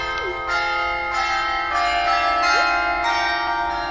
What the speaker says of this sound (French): les cloches du village donnent la sentence